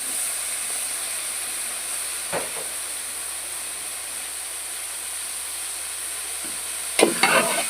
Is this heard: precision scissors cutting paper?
no